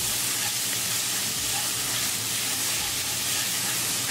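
Ground bison and mushrooms sizzle steadily in a pan as they are stirred with black pepper, garam masala, coriander, cumin and salt, a close, continuous frying hiss with soft scraping and no voices.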